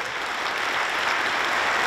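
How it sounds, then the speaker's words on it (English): At the 2017 International Astronautical Congress opening ceremony, a large hall audience applauds in a steady, even wash of clapping throughout the short stretch. "Please, another round of applause."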